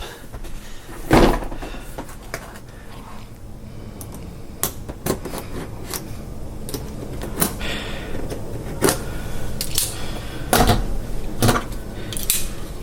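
Packaging for a Harbor Freight Icon double box end flex head ratcheting wrench being torn and opened: scattered crinkling and sharp clicking handling noises with a few louder snaps, close and alone without talk.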